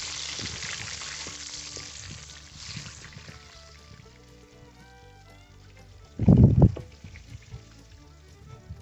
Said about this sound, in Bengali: এই দেখুন মাছগুলো আমার 2 রাউন্ড ভাজা হলো, এরপরে আর 1 রাউন্ড আছে।